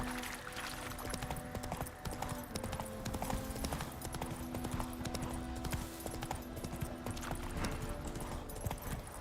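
Geralt's horse galloping in The Witcher 3 video game, a continuous rapid clip-clop of hooves under faint game ambience, with no talk.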